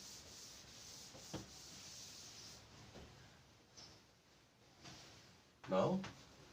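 Eraser or cloth rubbing chalk or marker writing off a classroom board, a steady soft scrubbing under faint room noise, ending in a louder brief burst of wiping.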